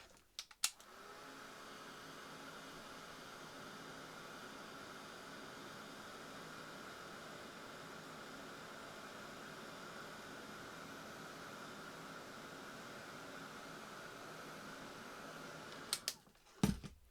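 A heat tool or air blower drying paint on a craft journal page gives a steady, loud whooshing hiss that runs unbroken for about fifteen seconds, then cuts off with a few clicks.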